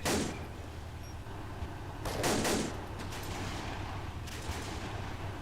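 Bursts of gunfire and distant booms from the MG42 machine gun in the Iron Front: Liberation 1944 war game, with a strong burst near two seconds and more fire around four seconds over a steady battlefield rumble.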